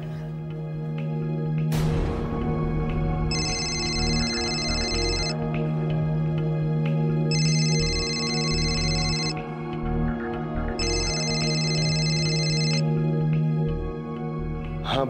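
A phone rings in three repeated electronic bursts over a steady low hum, moderately loud and close, with no voices.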